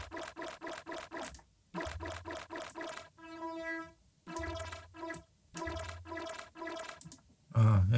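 A water sound sample imported into a wavetable synthesizer plays back as a series of rhythmic, clicky pulses with a tonal, harmonic stretch in the middle and a loud burst at the end, with no voices present.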